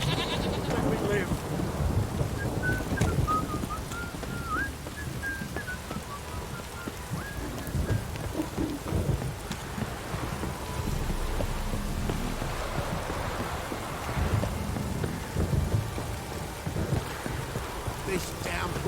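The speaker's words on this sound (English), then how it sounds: "This downpour's a bastard in it." Steady heavy rain with rolling rumbles of thunder in The Witcher 3 video game, a dense continuous wash of downpour throughout, with game sounds and muffled voices faintly mixed in.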